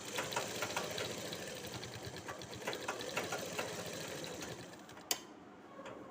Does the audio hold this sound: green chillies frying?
no